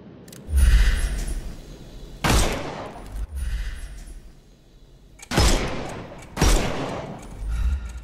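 Gunfire in a Sherlock Holmes video game, shooting the armour off enemies: several loud, heavy bursts of shots with a boomy low end, separated by quieter gaps.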